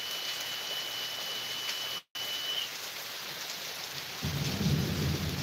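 Steady heavy rain hisses throughout on a boat, with a short dropout, then a low rumble of thunder building near the end.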